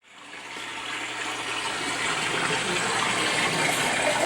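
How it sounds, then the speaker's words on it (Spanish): Water rushes steadily and fairly loudly in a continuous gushing wash, like a river running over small pebbles, building slightly and never pausing. "¿Agua de un mar o de un río? De un río con piedritas."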